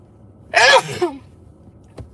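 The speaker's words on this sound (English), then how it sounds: "Now I'm about to sneeze." A single loud, sharp sneeze bursts out, followed by a brief trailing exhale and a faint click moments later.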